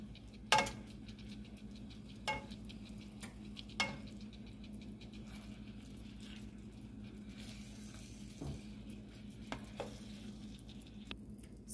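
Honey butter garlic sauce sizzles quietly over salmon in a pot, a faint steady crackle with a few sharp clinks and scrapes of a spoon scattered through.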